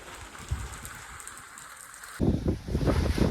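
Heavy summer rain falls on mud houses. A soft windy hiss with scattered drops gives way to a sudden, much louder and denser downpour roar partway through.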